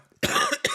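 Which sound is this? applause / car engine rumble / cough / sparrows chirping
cough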